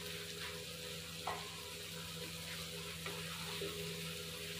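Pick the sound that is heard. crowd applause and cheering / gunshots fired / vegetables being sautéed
vegetables being sautéed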